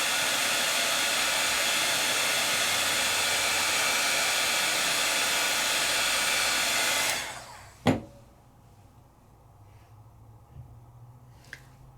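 A heat tool blows steadily on a paper craft project to restore its glossy finish, a loud continuous airy roar for about seven seconds that cuts off with a click, followed by quiet room tone.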